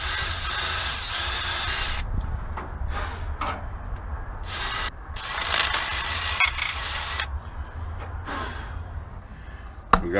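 A drill bores a hole in a radiator fitting in several rough, grinding bursts with brief gaps between them, close and moderately loud.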